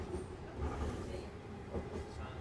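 A Vancouver SkyTrain passes at a distance, making a low, fairly quiet rolling rumble that swells gently and then settles over a couple of seconds.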